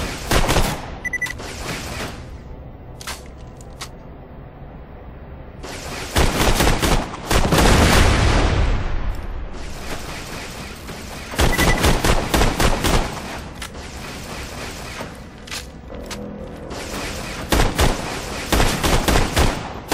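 Turrets in the video game Borderlands: The Pre-Sequel fire loud bursts of gunfire, with clusters of rapid shots and heavy booms separated by brief lulls.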